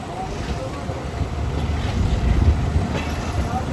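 The Bolan Mail train beginning to accelerate, a continuous loud rumbling roar with rattling undertones that swells slightly midway, heard from on board.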